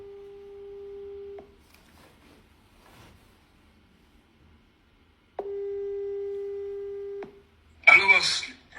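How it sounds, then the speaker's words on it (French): A phone call rings out on the line, with two long, steady ringback tones separated by a few seconds of near silence, then a voice answers at the end. "Je vais appeler Mkido parce que là, c'est un peu allé fort"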